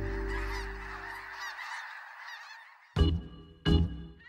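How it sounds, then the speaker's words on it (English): Snow geese honk loudly in a noisy flock chorus, then the calling drops away and two sharp, close, separate honks stand out near the end, over a quiet outdoor background at a toxic mine pit in Butte. "Snow geese"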